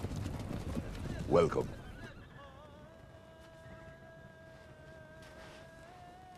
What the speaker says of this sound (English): We bring horses for you.